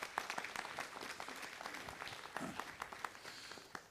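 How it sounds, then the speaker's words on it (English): A crowd at a city council meeting claps in sustained, moderately loud applause, dense and steady throughout. "Give her a nice round of applause"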